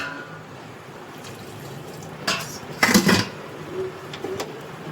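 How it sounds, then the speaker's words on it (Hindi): Water goes into a cooking pot on a home stove, a short splashing pour with a couple of brief bursts over a quiet kitchen background. "और पानी तो मैं थोड़ा ही डालूँगी इसमें।"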